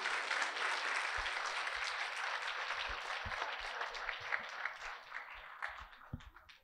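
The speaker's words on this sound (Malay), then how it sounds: "Tepukan untuk anda juga kerana menyerikan acara pada hari ini." A crowd claps steadily and loudly throughout at a secondary school debate competition final, a dense continuous patter of applause that thins slightly toward the end.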